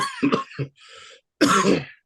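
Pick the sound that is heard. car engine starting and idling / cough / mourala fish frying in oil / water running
cough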